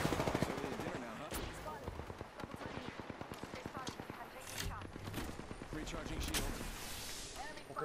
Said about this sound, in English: The guy shooting from up on that top.